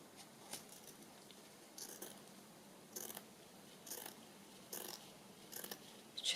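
Scissors snip through paper or fabric while finishing a sewing journal, giving about six crisp, evenly spaced cuts close to the microphone with quiet pauses between them.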